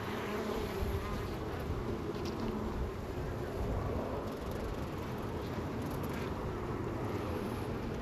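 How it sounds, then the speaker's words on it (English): Honey bees from an opened hive buzz in a dense, steady swarm as they are shaken off the frames during a beekeeping inspection, a continuous close drone with some wind on the microphone. "This is where it's going to get noisy because I'm going to start thingying these bees off the frames"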